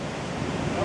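Wind blows across an outdoor spot, producing a steady rushing roar with microphone buffeting that stays close and fairly loud throughout the short stretch.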